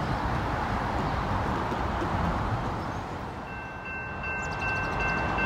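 A Norfolk Southern northbound intermodal freight train rolls past in Lockland, Ohio, a loud continuous rumble and roar of wheels and cars, easing briefly before surging again, with a faint high tone near the end.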